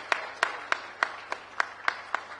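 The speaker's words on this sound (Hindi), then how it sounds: "मैं चाहूंगा एक बार जोरदार तालियां" An audience at a health conclave applauds with a steady run of evenly spaced claps that stay fairly faint and distant in a hall, with no speech over them.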